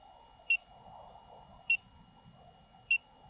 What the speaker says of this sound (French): Pourquoi il bip, ça doit être mon casque